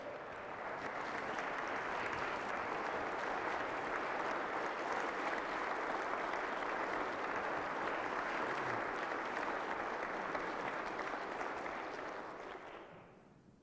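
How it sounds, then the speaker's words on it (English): A large crowd at a state of the state address applauds loudly and steadily for several seconds, then the clapping quickly fades away. "Please give them a great big round of applause."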